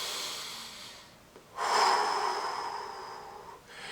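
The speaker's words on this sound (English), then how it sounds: "spend some time every day doing some nice deep belly breathing" A slow, deep belly breath drawn in and let out during a voice-deepening exercise, a soft breathy rush after a short pause that swells then fades, close and fairly quiet with no talking.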